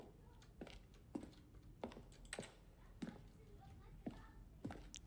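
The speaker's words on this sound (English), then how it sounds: "Some of the sounds used throughout the game when buttons are pressed. Each sound is a mix of a keyboard stroke and a synthesized tone." Button-press sounds from the video game The Stanley Parable mix a keyboard keystroke with a synthesized tone, heard as a steady series of crisp clicks at roughly half-second intervals, each with a faint tonal tail.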